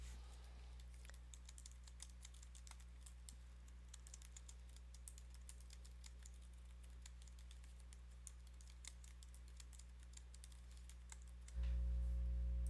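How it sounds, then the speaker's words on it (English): Soft, quick keystrokes patter on a computer keyboard in an irregular stream, faint and close, ending with a sudden low hum as something else starts up; no voices. "type in the actual text that I want to show for my tweet"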